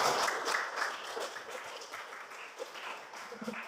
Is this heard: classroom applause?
yes